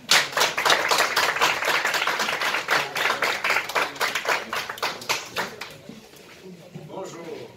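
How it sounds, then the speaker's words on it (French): A small group at a conference claps in quick, fairly rhythmic bursts that thin out and fade near the end, with some voices mixed in. "je vous demande d'applaudir"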